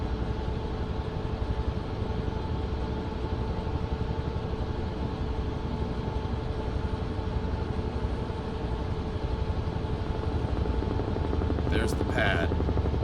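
A helicopter flies steadily in Microsoft Flight Simulator 2024, its rotor and turbine drone loud and continuous throughout, with a brief burst of higher noise near the end.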